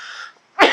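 A single sharp, forceful cough bursts out after a brief fading tone and a short silence, close and loud.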